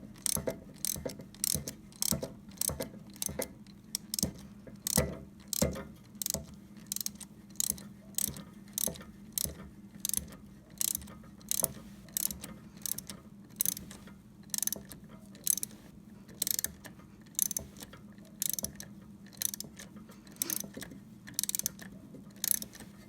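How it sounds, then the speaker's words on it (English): An 8mm socket ratchet tightens a hose clamp on a cold air intake for a Chevy Cruze, making bursts of quick, close clicking that repeat in regular strokes with short pauses between them. "So now all we have to do is tighten our hose clamp."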